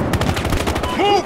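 Rapid automatic M416 rifle fire in the video game Battlefield Hardline, a fast burst of sharp close shots packed together, with a voice calling out near the end.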